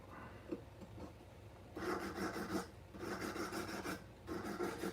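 A 400 grit sandpaper disc works over a silver piece in steady, rasping bursts of sanding with short pauses between strokes, close up and fairly quiet against a low background hum.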